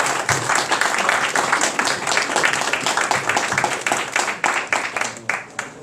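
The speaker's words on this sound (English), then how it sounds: "A big round of applause for all their effort today." Outdoor community crowd at a wildfire awareness and prevention event in Placerville, California, applauding loudly and steadily, the dense clapping thinning into scattered individual claps toward the end.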